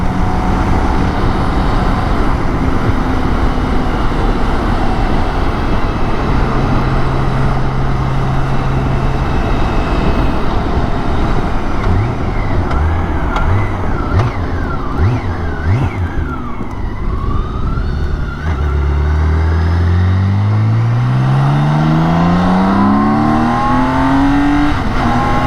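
A BMW K1600 GTL motorcycle on Michelin RP6GT tyres rides along a road, with loud continuous wind rush and engine drone and a rising rev near the end, recorded close on the bike.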